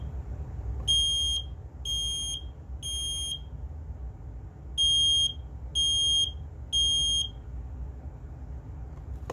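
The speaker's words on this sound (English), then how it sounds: "It is a heat detector. This is a test button," A First Alert HB6135FB heat detector sounding its test alarm: two groups of three shrill, evenly spaced beeps separated by a short pause, loud and close over a steady low room hum.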